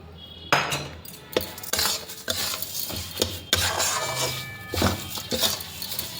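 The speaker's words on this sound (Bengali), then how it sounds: "চিনি দিয়ে ভালো করে মিশিয়ে একটু নাড়াচাড়া করে নেব।" A utensil stirs and scrapes tamarind pickle with sugar in a pot, sounding as irregular close rasping and clinking strokes.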